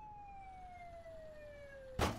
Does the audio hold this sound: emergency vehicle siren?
yes